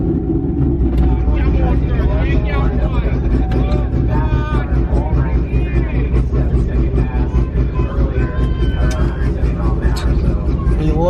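A Corvette ZR1 at a roll racing event, its engine a steady, loud low drone with layered harmonics, while voices talk over it throughout.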